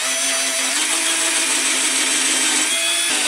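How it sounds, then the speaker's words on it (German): A continuous high-pitched electric drill boring a hole with a screw whines steadily at close range, its motor pitch shifting slightly before cutting off near the end. "Bohrmaschine, Schraube, Loch durchbohren, passt."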